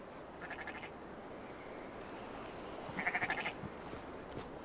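Sheep bleat in the video game Assassin's Creed Valhalla, a couple of faint, wavering calls over a low ambient background, the second one slightly louder.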